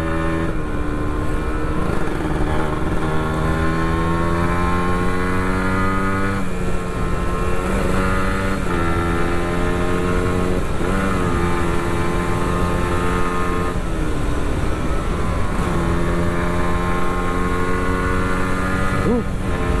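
A motorcycle ridden solo on a tour along a muddy rural road toward North Kolaka, its engine droning steadily and loudly throughout, with pitch shifting as the rider changes speed and talk over it.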